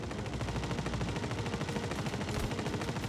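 Sustained enemy gunfire in the Star Citizen video game, a dense unbroken stream of rapid automatic shots at steady loudness with no talk over it.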